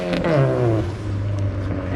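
A turbocharged Honda K20-powered Civic wagon revs hard on a dyno in a red-zone pull, the engine note sweeping through rising harmonics at close range. Voices talk over it throughout.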